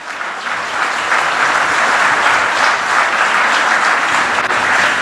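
A church congregation applauds the Lord during a Spanish-language sermon, with loud, dense, continuous clapping that fills the whole stretch evenly with no talk over it.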